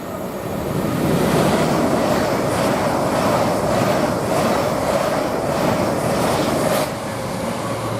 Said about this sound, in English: Now we've got a LNER service coming through.